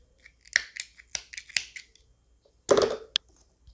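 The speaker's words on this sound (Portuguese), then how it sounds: "Deixa eu cortar um pedaço deste fio aqui que eu deixei muito grande" Scissors snip a piece of yarn while amigurumi pieces are prepared, with a few quick, crisp close-up cuts followed by one louder, longer snip and a final click.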